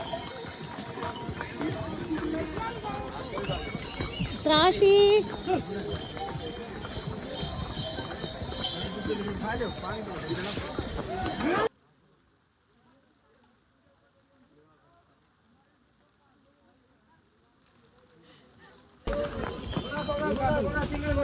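Mule hooves clip-clop steadily over ground amid outdoor noise on the trail from Gauri Kund to Kedarnath, with a voice speaking briefly; the sound cuts to near silence midway before resuming.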